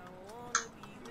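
A planted bomb ticks in a video game, faint, evenly spaced ticks with one sharper, brighter click in the middle, quiet beneath a low background voice.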